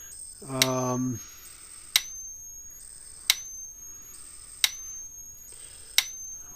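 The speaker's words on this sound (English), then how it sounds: "Let me put the fence tester across here and see what we get." Electric fence tester held across the output of a Gallagher M800 energizer converted to 12-volt DC, a brief buzzing tone followed by five sharp regular clicks with a high whine, about 1.3 seconds apart.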